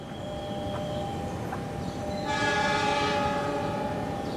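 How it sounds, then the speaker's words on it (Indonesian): A container freight train rumbles past nearby with a steady rolling roar that grows louder midway, carrying tonal horn-like hums and metallic ringing; no voices. "Lalu ini ada kereta api kontainer."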